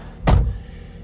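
A single solid thud of a 2014 Jeep Compass car door shutting, close and fairly loud, a short low impact that fades quickly into quiet background.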